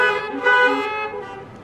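A car horn toots in a short double honk, bright and fairly close, at a drive-in blessing of the animals.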